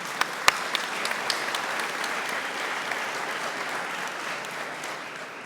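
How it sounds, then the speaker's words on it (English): A large conference audience applauds open source software contributors, with steady, dense clapping in a hall, a few sharp individual claps standing out near the start, and the sound holding evenly throughout. "We should give them a big round of applause."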